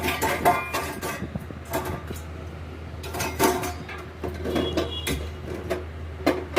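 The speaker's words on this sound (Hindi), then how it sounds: "ये कुछ बर्तन पड़े थे, मैं उन बर्तनों को साफ़ कर दिया मैंने सारा वो।" Dishes, pots and utensils are washed in a home kitchen, with repeated clinks and clatters of metal and ceramic knocking together at close range, irregular and busy throughout, with no talking.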